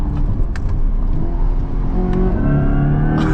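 A 2024 Corvette E-Ray hybrid all-wheel-drive sports car accelerating hard from inside the cabin, its engine note climbing steadily in pitch, loud and continuous throughout with no talking.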